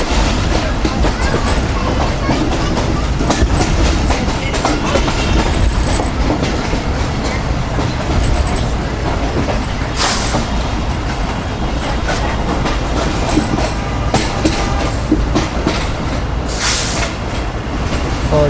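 Pak Business Express on its Karachi to Lahore run, heard from inside a coach as it slows on approach to a station: a steady low rumble with rhythmic wheel clickety-clack and occasional brief hisses, continuous throughout.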